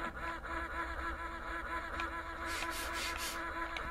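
A duck quacks in the 3DO game Killing Time, a few nasal calls repeating over a busy, constant game soundscape with no talk.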